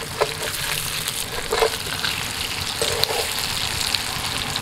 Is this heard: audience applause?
no